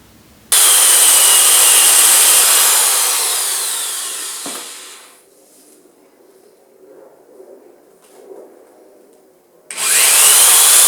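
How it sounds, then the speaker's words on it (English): A power drill bores out rivets on an Audi A8 air suspension component in a garage, a loud high whine running several seconds and winding down, then quiet handling noises before the drill starts again. "we're going to drill these out and we're going to clean out the inside of there"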